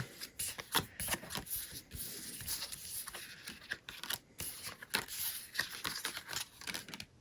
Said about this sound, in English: Shuffling with one hand is always fun.